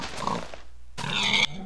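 Pigs in Minecraft give two short grunts, close and clear, with a brief silence between them.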